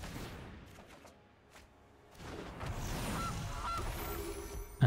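A Gilded Goose card in MTG Arena honks twice in quick succession midway through, clear and mid-loud over soft game ambience, followed by a brief bright chime at the end.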